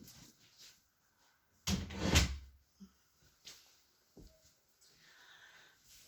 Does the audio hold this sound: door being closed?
yes